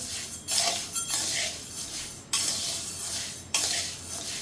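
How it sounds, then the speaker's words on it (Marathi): Green mung beans are dry roasted in a pan over low to medium flame, stirred so they rattle and scrape continuously. A dense hiss of shifting beans is broken by a few sharp scraping strokes, close and steady, with no voices. "आता हे भाजून घ्यायचे आहेत"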